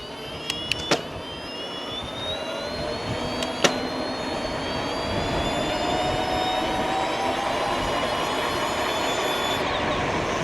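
A CYC Photon Pro mid-drive e-bike motor climbs a slight uphill, giving a steady high-pitched electric whine that slowly rises in pitch over constant wind and road rush, with a few sharp clicks near the start.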